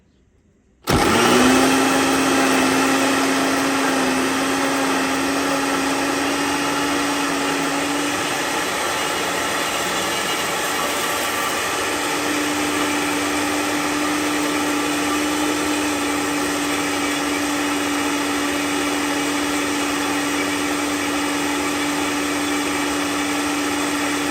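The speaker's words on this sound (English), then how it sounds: "See if this cheap blender will blend it up." A small, cheap kitchen blender blending onion starts abruptly and runs loud and steady, a constant high whine with a buzzing motor drone, no talking.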